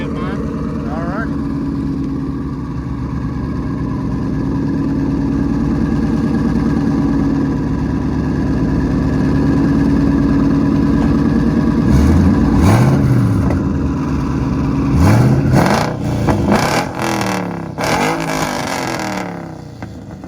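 An 800+ whp twin-turbo 2019 Mustang with a Corsa exhaust and E85 fuel, idling with a deep rumble, then blipped in several sharp revs that rise and fall near the end, with talk at times.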